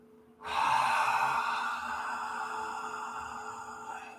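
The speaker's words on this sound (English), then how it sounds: "Exhale." A long, steady exhale during a hot yoga class, starting abruptly and breathy throughout, tapering slowly over several seconds with no talk over it.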